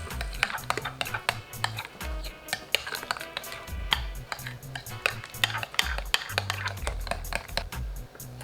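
A utensil clinks and scrapes against a bowl while stirring a seasoning mix, with irregular tapping strikes and soft thuds in close, busy rhythm.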